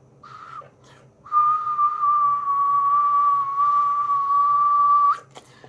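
A person whistles into the microphone of a Cobra 200GTL DX 10-meter CB radio, producing one steady, slightly wavering tone held for about four seconds after a shorter whistle, with faint background hum.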